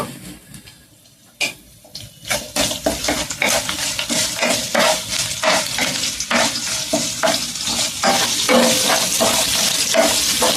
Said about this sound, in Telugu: ఫ్రెండ్స్ కరివేపాకు కూడా ఒక 2 రబ్బలు వేద్దాము.